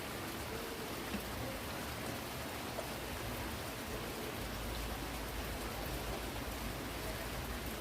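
Light drizzle patters steadily outdoors as a soft, even hiss, faint and unbroken throughout with no talking.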